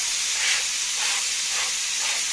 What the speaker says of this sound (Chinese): 噴少少油落去，咁你就肯定話唔會多油啦嘛